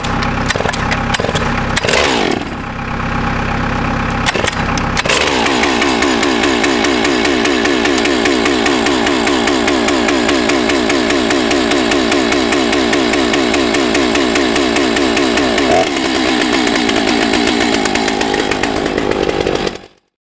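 A chainsaw cranks over and fires up, then runs steadily and loudly at close range for most of the stretch. The roar dips briefly partway through, and there is no talk.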